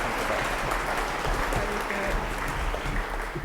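Audience applause welcoming minister Derek Mackay to the stage at an STP conference, a dense, steady roar of clapping from a large crowd sustained evenly throughout.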